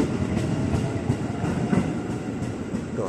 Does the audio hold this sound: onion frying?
no